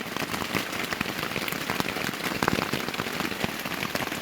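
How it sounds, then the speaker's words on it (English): Rain pattering and dripping inside a leaking tent, a dense, continuous patter of drops striking fabric close by, with scattered sharper plinks and no voices. "fucking raining inside the damn tent"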